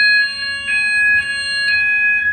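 A fire alarm panel sounder rings during a test, a loud piercing electronic tone pulsing in short repeated bursts, close by with no talking.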